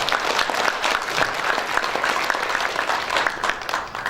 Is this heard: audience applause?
yes